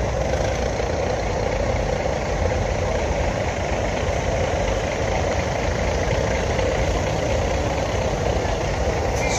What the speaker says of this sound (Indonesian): Suara knalpotnya beda.